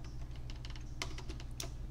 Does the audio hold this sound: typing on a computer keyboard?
yes